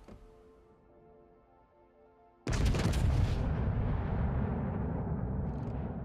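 The Italian battleship Andrea Doria fires a gun salvo in World of Warships: a sudden loud, heavy boom after a quiet hum, then a long rumbling roar that slowly fades.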